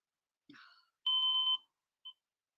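An alarm clock gives a sustained electronic beep of about half a second, then one short chirp, in an otherwise quiet room, after a soft rustle just before.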